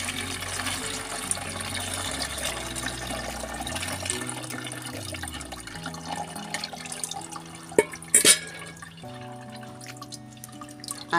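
Liquid fertilizer made from banana peels trickles and drips quietly as it is strained, with faint splashes and a couple of sharp clinks near the end.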